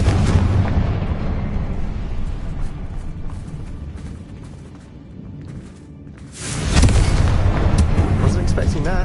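A Bombarda explosion spell blasts in the Hogwarts Legacy video game: a long, loud rumbling roar fades to a quieter lull, then a fresh heavy boom erupts near the end.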